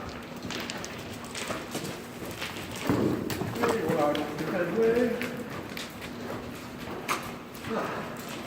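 A horse trotting with a rider during a riding lesson warm-up, a soft rhythmic clip-clop of hooves running steadily under a nearby instructor's voice.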